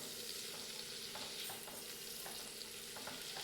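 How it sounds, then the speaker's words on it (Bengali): Tomato and ginger paste fries in a pan for a vegetarian Bengali dish, a steady close sizzle broken by repeated scrapes and clatters of stirring, with no talking. "টমেটো আর আদা খুব ভালোভাবে ভেজে নিতে হবে যতক্ষণ না পর্যন্ত এর কাঁচা গন্ধ চলে যাচ্ছে।"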